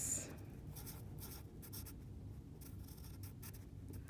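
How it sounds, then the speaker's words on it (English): Pen or pencil writing numbers by hand on paper: faint, close scratchy strokes and short taps in an irregular rhythm, quiet against low background hiss, with no one speaking. "I'm going to write it right down here"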